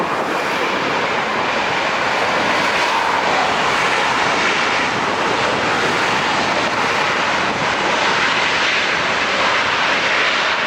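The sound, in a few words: airplane landing at LAX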